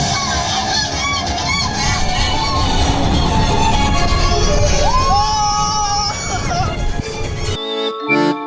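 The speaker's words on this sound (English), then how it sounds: "That is a big goose, and she thinks we're taking her babies." A large goose honks repeatedly at close range, protecting her goslings, amid a dense, loud wash of crowd and theme-park noise at an evening Halloween event; the sound cuts off abruptly near the end.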